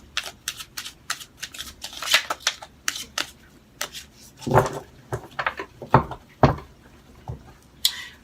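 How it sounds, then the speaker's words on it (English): Tarot cards are shuffled close by in quick riffling bursts and soft slaps, repeated in an uneven rhythm with a few louder taps. "I'm going to shuffle 3 more times"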